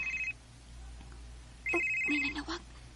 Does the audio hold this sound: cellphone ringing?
yes